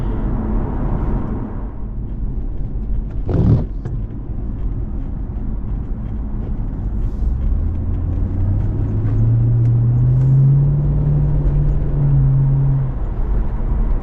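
A 2006 HSV VE Senator drives past with a steady engine rumble, rising into a louder drone that climbs in pitch midway and holds, with a brief sharp knock early on and no talk.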